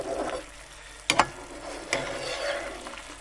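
Denver steak stew with garlic, ginger, onions and tomatoes stirred in a pot: a soft, steady wet sizzle with two sharp spoon knocks against the pot partway through, close and moderately quiet.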